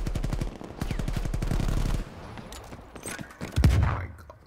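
Automatic gunfire in a Call of Duty Cold War prop hunt match: rapid bursts of closely spaced shots for about two seconds, followed by scattered thuds and a louder impact near the end.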